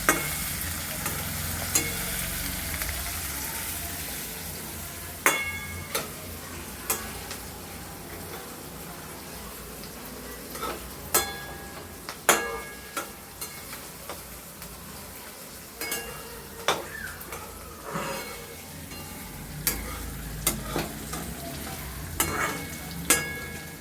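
Onions and green chillies fry in a pan for poha, sizzling steadily while a spatula stirs and scrapes in repeated sharp strokes throughout, close and fairly loud, with no talking.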